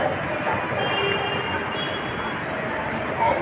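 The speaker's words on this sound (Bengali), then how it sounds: "আমরা মতিঝিল মেট্রো রেল স্টেশনে ঢুকছি।" Inside Motijheel metro rail station, a continuous dense rumble of train and station noise fills the space, steady and fairly loud with faint high metallic tones.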